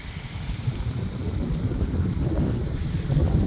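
A 2019 Honda CRF250R dirt bike, recently raced, idles with a steady low, rumbling drone that holds constant throughout, with wind-like noise over it and no talking.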